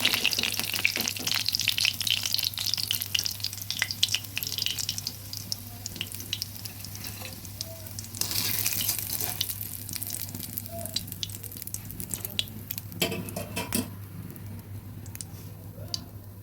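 Banana flower pakoras frying in oil in a kadai, a steady crackling sizzle throughout with a few louder bursts of bubbling, close up and with no talking.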